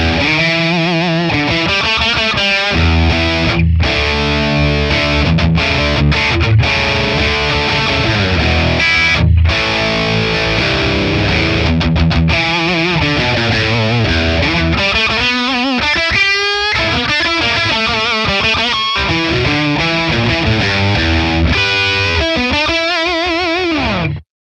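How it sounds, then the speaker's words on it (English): Electric guitar played through a scooped high-gain Friedman amp capture on Tonex, loud and heavily distorted, with sustained chords and fast riffing running continuously before cutting off abruptly at the end. "Let's try the Friedman in the gain number 3, and it's scooped."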